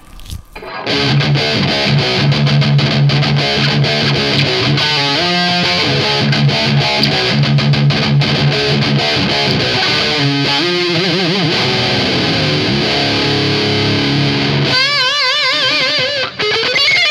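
Electric guitar played through the cheapest effects pedal from Mercado Livre, loud distorted riffs and chords sustained for most of the passage, ending with a few wavering notes.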